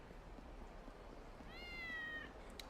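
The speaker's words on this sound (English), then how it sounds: "Oh, kitty cat." A cat in the game Kurohyou gives one short, clear meow, rising then falling, over a steady background hum and faint ambient noise.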